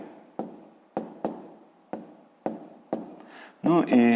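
Pen or chalk strokes writing out numbers by hand during a sixth-grade maths fraction exercise, a series of short scratchy bursts in uneven rhythm, close and clear, with a voice speaking briefly near the end.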